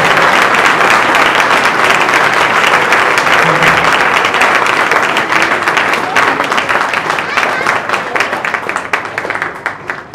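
A church congregation at a prayer service claps loudly for Jesus Christ, a dense, sustained burst of many hands close by that tapers off slightly toward the end, with voices mixed in.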